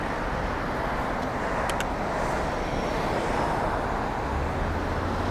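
Midday road traffic on a three-lane road roars past a cyclist, a dense, loud and continuous wash of car noise with no clear gaps.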